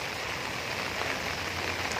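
Steady rain falling, a continuous even hiss of drops with no pauses, moderately loud and close.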